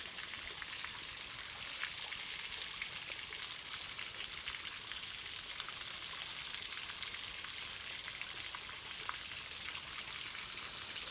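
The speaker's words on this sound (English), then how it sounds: "this is the first little waterfall I've come to" Small waterfall at Van Hook Falls, a steady broadband rush of falling water that stays close and even for the whole stretch, with no voices over it.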